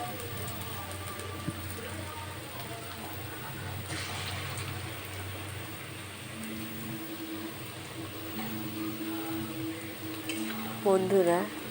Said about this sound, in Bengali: দু পিঠ ভালোভাবে লাল লাল করে ভেজে নিলেই তৈরি দুধের পকোড়া রেসিপি